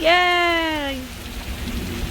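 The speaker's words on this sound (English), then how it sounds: "It's raining." Rain falling on a garden, a soft steady patter under a loud voiced cheer at the start that fades into continuous drizzle noise.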